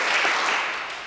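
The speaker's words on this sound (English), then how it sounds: "Can you clap?" An audience at a university lecture claps hands together in a short practice round, a dense burst of applause filling the room briefly before fading slightly.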